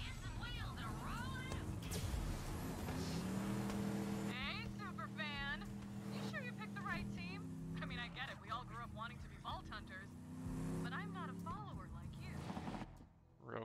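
A vehicle in the video game Borderlands 3 drives along with a steady engine hum and occasional bursts of gunfire, mostly underneath continuous game dialogue and a player's talk.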